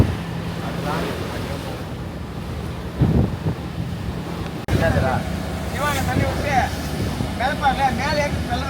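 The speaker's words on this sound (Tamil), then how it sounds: "கடல் வந்து ஏன்னா சரியான காற்றா இருக்குது, ரஃபாக இருக்குது பாருங்கள் கடல், ஸ்மூத்தாக இல்லை கடல்." Strong wind buffets the microphone aboard a fishing boat on a rough sea off Pangkor Island, a steady loud rush with wave noise throughout, while people talk over it.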